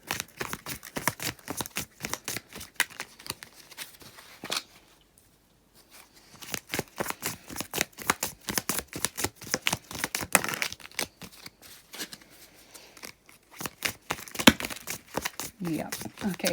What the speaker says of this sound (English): these cards are a little bit hard to shuffle because they're round and there's 200 of them